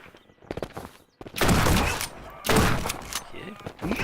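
Shotgun blasts from the video game Shotgun Farmers boom loud and close in a few heavy bursts, mixed with lighter game clicks and effects and some player talk between them.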